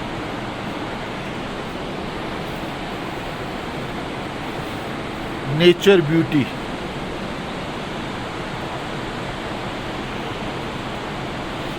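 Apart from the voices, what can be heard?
Alaknanda river flowing through the valley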